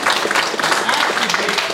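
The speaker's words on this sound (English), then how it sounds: "Give Jake a round of applause." A short burst of crowd applause at a Sunday Assembly gathering, loud, dense and even throughout, with faint voices mixed in.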